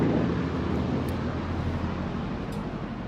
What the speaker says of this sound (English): sorry, there's a helicopter